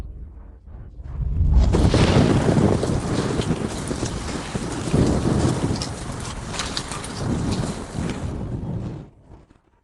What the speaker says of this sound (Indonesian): Aku bisa kendalikan hujan.